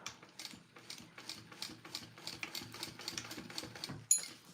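Sewing machine running in quick rhythmic bursts of stitching as it sews a backpack strap down alongside foam padding, a steady mechanical clatter with brief pauses, close and moderately loud.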